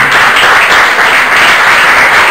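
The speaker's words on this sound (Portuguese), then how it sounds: "Aplauda Jesus e pode se assentar." Sustained congregational applause at a church worship service during a sermon about Jesus, dense and even throughout, loud and filling the space with no talk over it.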